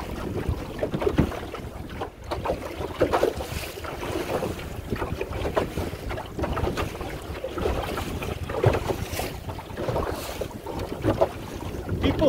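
A Pooduck Skiff sailboat under jib moves through choppy water. Steady rushing wind and microphone buffeting mix with repeated slaps and splashes of waves against the hull, loud and continuous, with no voices.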